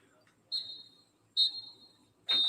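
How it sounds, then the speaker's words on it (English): A referee's final whistle at a football match at Broward College Stadium, three sharp shrill blasts, the last one longer, heard in the open with faint crowd ambience. "final whistle here at the Broward College Stadium"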